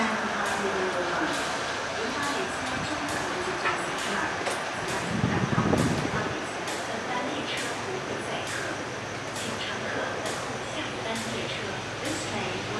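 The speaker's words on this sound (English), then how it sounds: "The non-stop train is passing through the station." A southbound through train hauled by a DF11 diesel locomotive rolls non-stop past a station platform, a sustained rumbling roar with rhythmic wheel clacks and a louder swell midway, while people talk faintly underneath.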